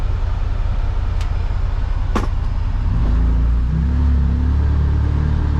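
A Can-Am Defender UTV on the move gives a steady low engine rumble with constant road and wind noise, and a deeper drone rises after a couple of short clicks.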